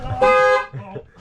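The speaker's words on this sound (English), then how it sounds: "Horn works." A truck horn gives one short, loud, close honk, cutting off almost as quickly as it starts, followed by quieter rustling and movement around the vehicle.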